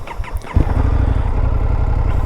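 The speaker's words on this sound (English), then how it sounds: "There's that exhaust, not so loud." Indian FTR 1200 motorcycle idling as it warms up on a warm day, a fairly subdued exhaust that catches with a thump after brief starter noise, then holds a steady, throbbing low rumble close by.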